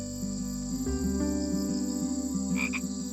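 Frogs croak steadily in a wetland, a dense chorus of low repeated calls with crickets trilling behind, close and continuous with no voices.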